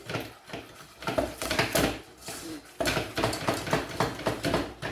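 Flour and milk batter is whisked in a bowl, with rapid, rhythmic clinking and scraping of the whisk against the sides. The sound is close and busy, and there is little or no talk.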